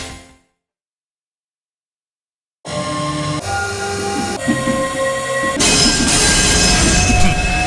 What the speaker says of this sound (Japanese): 出てるぜ、シーメンス 3VF。